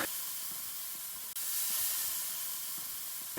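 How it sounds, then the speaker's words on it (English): Onion sautés and butter melts in a hot pan, giving a steady, fairly loud sizzling hiss that runs unbroken except for one brief dip, with no talking. "Start by sauteing the onion in the pan until it softens, only about a minute. Then add butter and let it melt."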